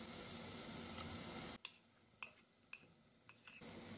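Yogurt and spice paste for a pumpkin korma frying in a pan, a dense steady sizzle that suddenly drops to a quieter hiss broken by a few sharp clinks of a utensil.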